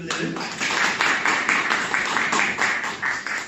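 An audience breaks into rhythmic applause, steady clapping at a moderate tempo that fills the room for several seconds.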